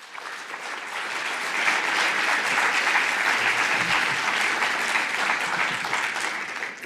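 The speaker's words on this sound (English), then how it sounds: "You listened to the applause." An audience at a nuclear energy conference in Warsaw applauds in a large hall. The clapping is dense and sustained for several seconds, steady and fairly loud, with no voices standing out.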